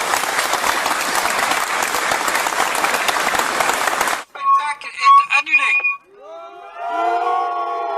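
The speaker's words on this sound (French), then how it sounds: "se fait accueillir par des sifflets et des cris" A crowd greets an arriving public-security director holding a megaphone with loud, dense noise that resembles applause, then sharp whistles and shouts in broken bursts, followed by voices.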